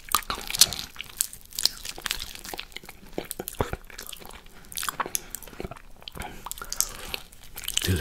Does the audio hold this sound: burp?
no